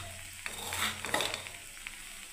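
Semolina stirred into hot water in a saucepan for upma, with a faint close sizzle and a couple of soft scraping strokes of a spoon over a few seconds, quiet and without talk.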